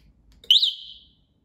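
One sharp electronic beep from a wireless scooter alarm kit on a Kaabo electric scooter, with a slight upward sweep in pitch, rings out loud and near, then trails off into silence.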